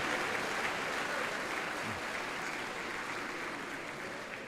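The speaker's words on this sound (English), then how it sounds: "Give God a hand clap for this day." Medical school commencement audience applauding in a large hall, a sustained, even roar of many hands clapping that fades slightly toward the end.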